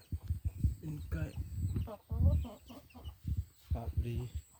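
Hens and chicks cluck close by in a home yard, their calls running almost continuously and mixing with a person talking over them.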